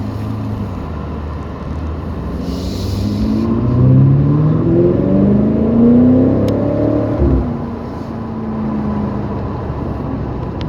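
A BMW M5 Competition's exhaust roars as the car accelerates, a loud, close engine note climbing in pitch through several seconds before easing off, heard from inside the cabin with no talk over it.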